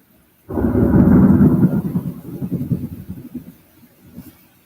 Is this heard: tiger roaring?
no